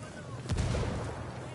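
A frag grenade goes off in a PS4 first-person shooter, a single heavy blast near the middle followed by a rumbling tail over steady game background, with voices faintly present.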